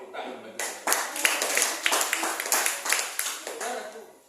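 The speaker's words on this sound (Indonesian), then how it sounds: "Tepuk tangan bagi kita." A church congregation clapping their hands together, a dense burst of loud, close claps starting abruptly and continuing in uneven waves, with voices mixed in.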